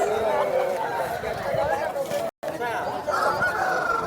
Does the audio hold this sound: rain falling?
no